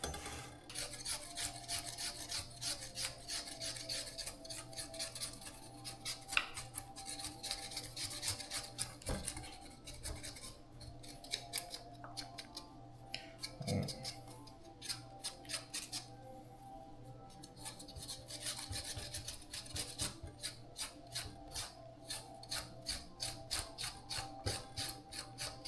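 Potatoes being peeled with a hand peeler in a home kitchen, with quiet, rapid rasping scrapes in steady bursts that are close and soft, with a brief pause midway.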